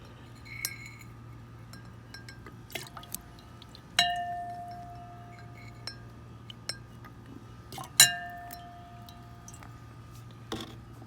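Distilled water is rinsed through glassware to wash out a gold solution during gold-filled watch band refining, giving a handful of sharp, ringing drips and glassy clinks spaced apart over a quiet background hum, with no talking.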